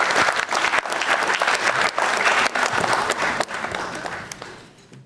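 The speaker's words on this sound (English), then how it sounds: "So please applaud me." Dense, loud applause from a lecture audience at a Constitution Day public lecture, steady broadband clapping that holds for several seconds before tapering off toward the end.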